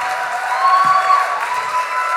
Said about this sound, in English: The applause is getting less enthusiastic